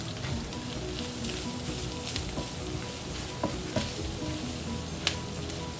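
Ground beef mixed with a packet of taco seasoning sizzles steadily in a skillet, with a few sharp scrapes and taps as it is stirred, close and alone with no talking.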